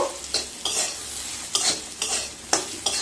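Chilli powder and salt being stirred in a hot pan, five or six distinct scraping strokes of a spoon over a low sizzle, near and fairly loud.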